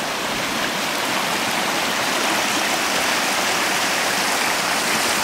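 Mountain waterfalls and a stream in a valley of cascades roar in a loud, steady, dense rush of water that holds constant throughout, with no voices or other sounds breaking through.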